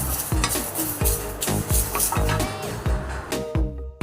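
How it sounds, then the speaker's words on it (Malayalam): Curry leaves and dried methi leaves fry in hot oil for Kerala-style sambar podi, a crackling sizzle punctuated by quick, regular scraping and clanking strokes of a spatula against the pan, close and fairly loud. "ഇനി അതിനകത്തോട്ട് ഉണക്കിയ മേത്തി ലീഫ് അതും കൂടെ ഇട്ട് നമുക്ക് മൂപ്പിച്ചെടുക്കാം."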